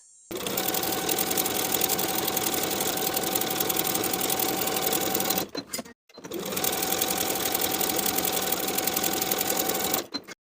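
A sewing machine stitches a hoodie sleeve seam with a 3/8 inch seam allowance, running in two long, steady bursts of rapid, close, loud stitching separated by a brief pause.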